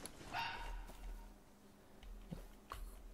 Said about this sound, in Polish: Tam lisek był chyba, czekajcie, gdzie on tam szczekał